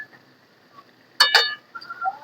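A metal lid clinks down onto a cooking pot of simmering vegetables in a home kitchen, two quick close clatters, with faint quiet rattles after it.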